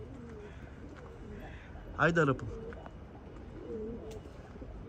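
Tumbler pigeons coo briefly in a short burst during flight training, with someone talking and outdoor ambience around them.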